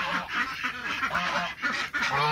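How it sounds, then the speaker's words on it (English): Ducks quack in a steady chorus of repeated nasal calls in a winter greenhouse yard near a goat pen and an iced-up door, close and fairly loud, with no talking. "I need to get the ducks out"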